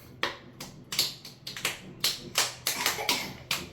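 A young girl claps for herself in a home kitchen after making pancakes, about a dozen light, uneven hand claps close by, with no talking.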